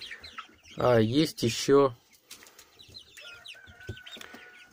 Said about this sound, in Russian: Вот это крупный петушок.